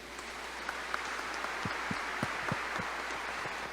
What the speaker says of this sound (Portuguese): A Deus uma salva de palmas.